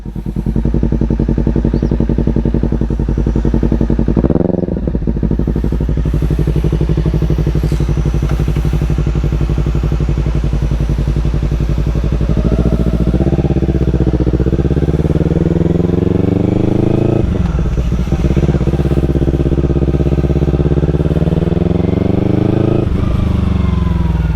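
A Kawasaki Ninja 300 motorcycle with an aftermarket exhaust runs loud and close, holding a throaty drone with a few quick rev swells and drops along the way.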